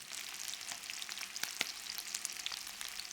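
Steak sears in a hot pan with a steady, fairly quiet sizzle, dotted with small crackles and pops, heard alone without talk.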